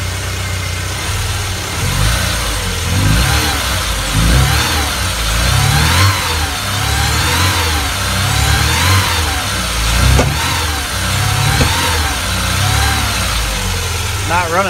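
A car's engine runs after being stored for a long time, idling roughly and revving in uneven surges up close, with the motor running poorly throughout.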